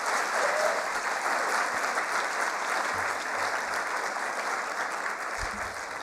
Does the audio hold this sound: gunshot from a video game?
no